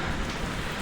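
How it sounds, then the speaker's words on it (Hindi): Very heavy rain with hailstones pelting down, a dense, loud, unbroken roar of downpour in one brief burst. "ये देखो बारिश आ गई, बहुत तेज़ बारिश आ गई।"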